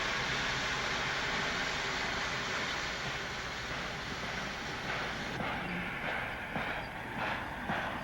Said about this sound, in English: You would let the boy handle this locomotive?